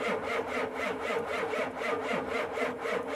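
A four-wheeler ATV engine runs at a steady mid-pitched drone, pulsing in a quick regular rhythm as it revs, close and moderately loud with no talking.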